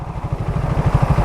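A motorcycle engine revs and idles close up, a loud throbbing low pulse with a quick regular firing rhythm, rising slightly in intensity, with no voices.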